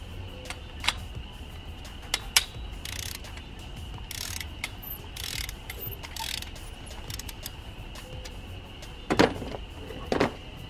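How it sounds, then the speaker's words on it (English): Ratchet fitted with a 14mm socket loosening a spark plug on a Honda Civic Type R FK8, with scattered short clicks and mechanical rattles close by over a steady hum, including a pair of louder clicks near the end. "But for now, I'll use my regular 14mm socket."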